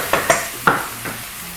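Onions, garlic and tomatoes sizzle in a frying pan, close up, with several sharp stirring scrapes and clatters over a steady hiss.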